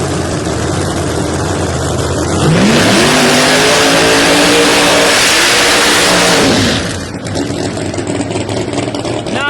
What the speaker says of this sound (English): Good burnout for King